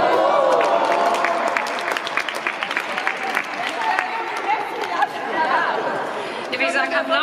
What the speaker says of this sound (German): Ich würde sagen, Applaus.